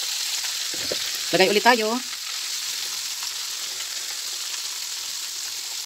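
Chicken tempura pieces fry in hot oil with a steady close sizzle, while a voice speaks briefly near the start.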